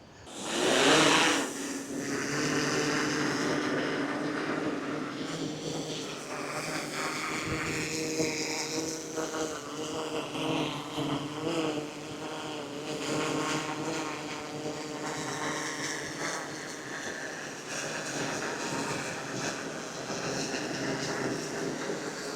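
An Xpece One drone lifts off on its first flight near a fishing spot, its propellers giving a loud, steady high-pitched buzz that surges at takeoff and then holds with slight shifts in pitch as it flies.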